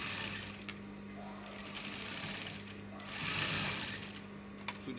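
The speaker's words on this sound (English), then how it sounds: "So you sew from there to this point." A sewing machine stitches together the front and sleeve of a garment with a steady, close mechanical whir and a low hum, interrupted by a few brief pauses and clicks.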